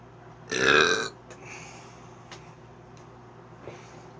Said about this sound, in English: That's one burp so far.